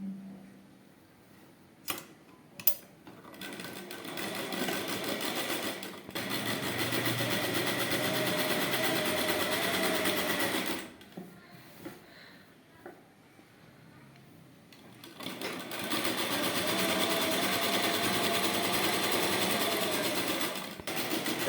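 A sewing machine stitches trouser fabric around a curved edge, running in sustained bursts with pauses and a few sharp clicks in between; a person talks at times.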